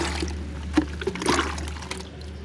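Lime water is poured onto a small sapodilla tree, giving soft splashes and trickles with a few distinct spatters over a low steady background hum.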